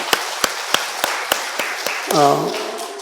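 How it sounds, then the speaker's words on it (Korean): Slow, evenly spaced single claps from a church congregation during a Sunday worship service, fairly faint, ending as a voice or sustained tone enters near the end. "우리 박수도 찬양입니다"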